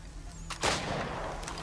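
A single gunshot in the video game Assassin's Creed 3, a sharp loud crack followed by a brief rumbling tail, with faint distant pops afterward.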